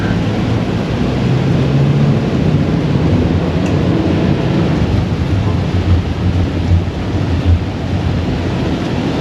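Steady, heavy downpour roaring close by at an old WWII airfield, with a deep rumble like thunder or wind buffeting underneath; no voices.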